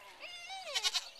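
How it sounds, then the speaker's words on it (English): A goat bleats several times up close at a farm during feeding, a wavering nasal cry that rises and falls, ending in short pulsing bursts, with no talking over it. "He's a goat, not a sheep."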